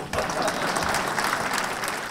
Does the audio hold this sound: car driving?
no